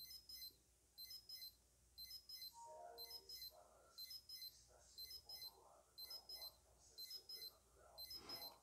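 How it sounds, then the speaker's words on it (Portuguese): A Freestyle The Contact wristwatch alarm beeps loudly in regular bursts of rapid high pips, repeating about once a second, with faint background noise and brief murmurs between. "o alarme dele tem um som bem bem alto"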